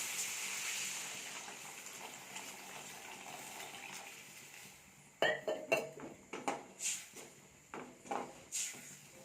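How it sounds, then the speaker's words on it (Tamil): Water added to a pan of tomato onion gravy, a soft hiss at first, then a run of sharp splashes and clinks of the vessel in the second half, close by with no speech. "இப்போது தேவையான அளவுக்கு தண்ணி சேர்த்துக்கலாம்"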